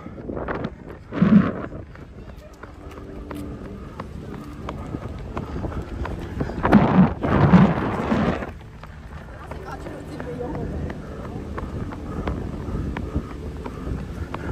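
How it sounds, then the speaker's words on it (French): Strong wind buffets the microphone outdoors with constant low rumble, swelling into two heavy gusts, while a person talks in French. "Là, le vent doit être horrible, non?"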